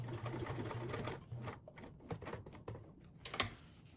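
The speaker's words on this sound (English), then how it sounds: "And sew back across." Sewing machine stitching across a duffle bag corner, a steady rapid mechanical chatter with short pauses and restarts, close and moderately loud.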